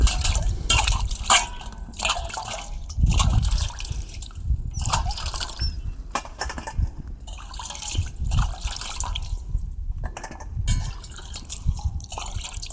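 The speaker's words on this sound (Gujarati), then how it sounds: "ધોઈ નાખીએ હવે સરસ મજાના પાણીથી." Fresh ridge gourds from a farm plot are washed in water, with close splashing, sloshing and dripping in irregular bursts, alongside some handling noise.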